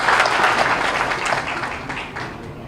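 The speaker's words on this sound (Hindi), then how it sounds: "हाँ एक बार जोरदार ताली बजा दीजिए।" A crowd at a BJP meeting in Dehradun gives a loud, dense burst of applause, steady, full clapping that tapers slightly toward the end.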